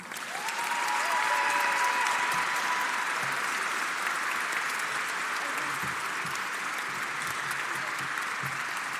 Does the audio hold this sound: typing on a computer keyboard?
no